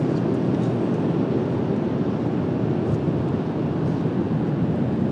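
A United Boeing 737-9 jet departs Washington Dulles on a cloudy day, its engines a steady, broad roar close by, mixed with gusty wind buffeting the microphone and no talk.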